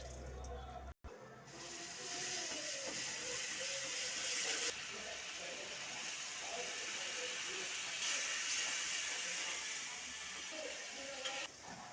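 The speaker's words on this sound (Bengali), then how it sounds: "ওই কড়াইতেই দিয়ে দিচ্ছি একটু তেল, মশলা ভেজে নিই" Asafoetida and fenugreek fry in oil in a wok for masala cauliflower. A faint, even hiss with soft crackle runs throughout, broken only by a brief dropout near the start.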